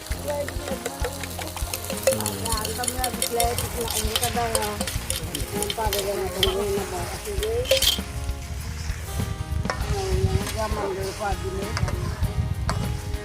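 Food is scrambled in a pan outdoors in a remote mountain home, with a steady sizzle and stirring scrapes running under music and voices talking nearby.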